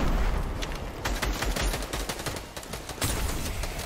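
Bursts of gunfire in a Fortnite match crackle loudly and steadily, dense repeated shots close by with no talking.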